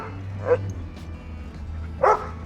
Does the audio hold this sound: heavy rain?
no